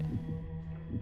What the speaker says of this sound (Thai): ดูดิหัวใจเราเต้นตึกตัก